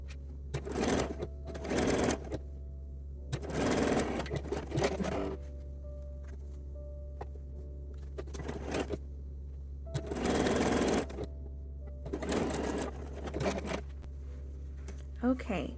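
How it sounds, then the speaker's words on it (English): A sewing machine stitches a 3/8 inch seam on lingerie fabric for a teddy, running in several short, close bursts of rapid whirring separated by quiet pauses. "we're going to sew these together with a 3/8 inch"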